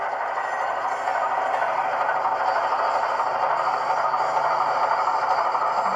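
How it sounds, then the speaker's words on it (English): Bowser HO DS 4-4-1000 model locomotive fitted with an ESU LokSound DCC decoder, its sound system giving a steady high metallic flange squeal over a low rolling rumble, continuous and close throughout. "Flange squeal's on point."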